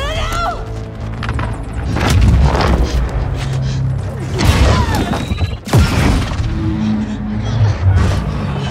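Loud booms and heavy impacts strike through a Mirror's Edge Catalyst scene, with splintering crashes and gunfire bursting at close range while voices shout between the blasts.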